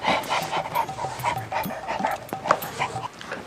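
A dog panting in short rhythmic breaths at close range outside a house, with faint whimpers and a few sharp yips mixed in, continuing steadily throughout.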